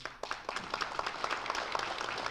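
Audience applause at a green architecture keynote address, a steady patter of many hands clapping at moderate volume throughout, heard from within the hall.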